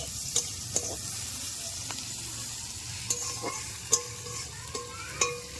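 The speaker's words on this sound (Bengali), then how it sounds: "এই যে মাংস রান্না শুরু হয়ে গেছে।" Chicken for Bengali-style chicken kosha fries in a pan, a steady low sizzle broken by several sharp metallic spatula clinks and scrapes spaced irregularly, close by and without talk.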